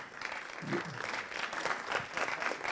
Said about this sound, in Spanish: gracias a los cámaras, un aplauso para ellos, por favor.